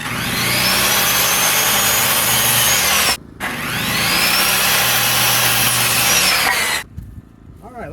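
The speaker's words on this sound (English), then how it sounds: "we're going to fire up the generator" A generator engine runs at a steady, loud drone, cutting out briefly near three seconds before resuming, then dropping away near the end.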